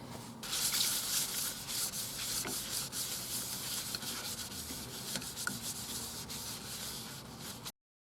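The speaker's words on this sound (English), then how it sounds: "Sand it up, sanding sealer and polish" Steady, continuous sanding on a yew wood box, a close dry rasping scrape that runs for several seconds before cutting off.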